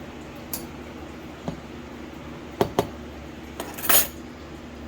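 Spoon stirring Jack's fertilizer nutrients in a container, a few sparse metallic clinks and taps followed by a brief scraping rattle, close and quiet, no talking.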